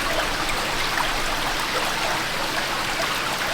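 A river flows out at its mouth near Hallstatt, Austria, a loud, steady rushing of water, continuous and close, with no voices.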